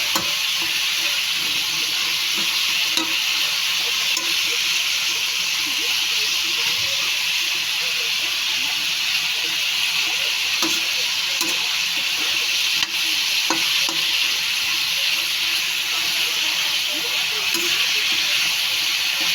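Pakbet vegetables with sweet potato being stirred in a cooking pot over a steady hiss of steam and frying, with faint scraping clicks scattered throughout.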